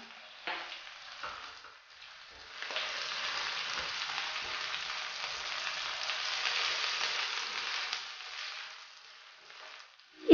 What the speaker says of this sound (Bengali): এবার এখানে কয়েকটা রসুনের কোয়া মিশিয়ে